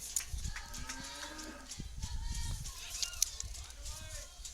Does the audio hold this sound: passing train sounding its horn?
no